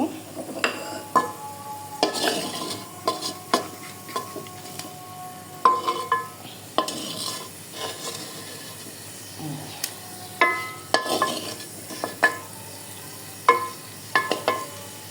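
Fish pieces lightly shallow-fried in a pan, a soft sizzle broken by frequent sharp clinks and scrapes of a utensil against the pan as the fish is turned and lifted out.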